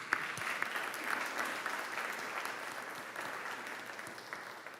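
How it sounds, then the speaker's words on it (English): An audience at a lecture and awards ceremony applauds steadily, a dense wash of clapping at moderate level that fades slightly toward the end without any voices. "let's give all of them a round of applause"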